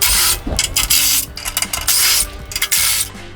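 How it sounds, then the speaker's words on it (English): A 13 mm wrench loosens a front bumper bracket on a Bronco, giving bursts of close metallic rasping and ratcheting with brief pauses between them. "with your 13 millimeter, we're gonna take this bracket off to put our relocate bracket on"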